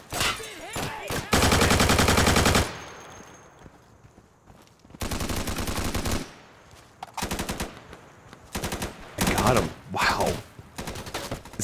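Gunfire in the video game Insurgency comes in loud automatic bursts. Several long, dense volleys are separated by shorter pops and quieter gaps.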